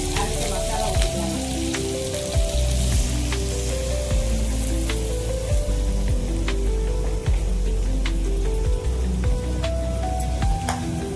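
Masala poured into brinjal frying in a pan for a dried anchovy (nethili karuvadu) kuzhambu gives a loud, steady sizzle, with crackling pops and spatter throughout, and no talk.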